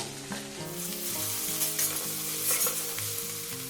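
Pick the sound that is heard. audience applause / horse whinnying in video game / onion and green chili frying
onion and green chili frying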